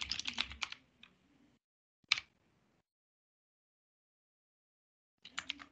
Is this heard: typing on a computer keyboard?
yes